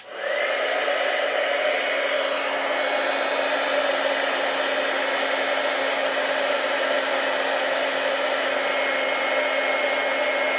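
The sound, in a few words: heat gun blowing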